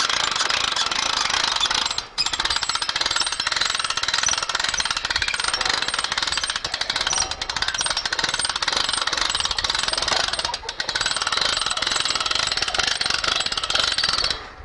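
A hand-cranked winch hauling up a boar trap gate, a dense continuous rapid ratcheting clatter running close and loud throughout with a couple of brief pauses.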